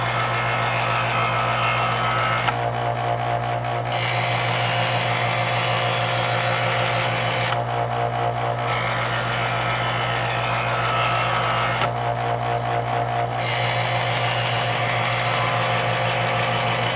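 An electric knife sharpener runs in its honing stage with a steady motor hum. A brighter grinding rasp breaks off and resumes several times as the blade is drawn through the slot, and no one speaks.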